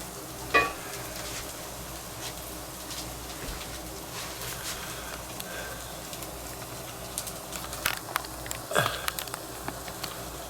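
Tofu, egg and mung beans fry in an oiled pan with a steady low sizzle, broken by occasional stirring scrapes and clicks, while birds coo and call faintly in the background.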